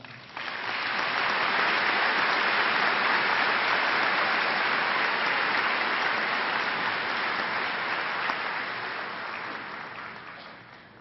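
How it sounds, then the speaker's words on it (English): A large audience at a high school commencement breaks into sustained applause, a dense wash of clapping that swells quickly, holds steady for about ten seconds, then tapers off. "join me in honoring her with a round of applause"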